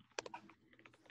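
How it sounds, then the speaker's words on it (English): A few soft, quick keystrokes tap on a computer keyboard, faint and distant as if from an open microphone during an online meeting, with no talking over them. "I hear typing."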